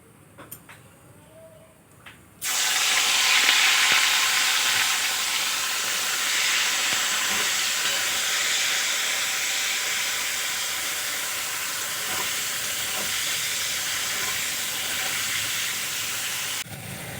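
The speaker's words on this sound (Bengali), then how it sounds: "চিংড়ি মাছগুলো আমি ভেজে নেব" Turmeric- and salt-rubbed prawns dropped into hot oil burst into a loud, close, steady sizzle that carries on for about fourteen seconds, with no talking.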